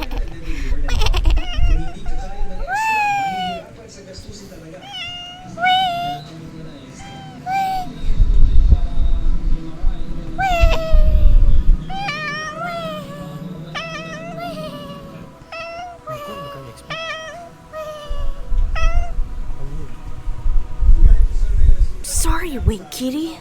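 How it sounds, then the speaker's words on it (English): A cat meows repeatedly in a video game, several distinct rising and falling meows scattered across the stretch, mixed with background game sound and loud low thumps, with a person talking at times. "wait, Kitty. I didn't mean to annoy you like that"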